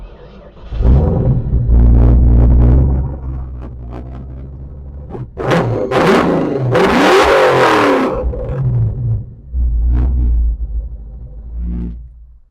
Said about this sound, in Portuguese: Vamos ver como é que funciona o som desse motor aqui.